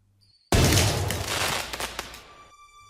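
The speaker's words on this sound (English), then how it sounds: "The party cannon blast echoed through the castle, shaking every wall." Party cannon blast in a castle: one sudden loud burst that rumbles and crackles for about two seconds, then trails off into faint ringing tones.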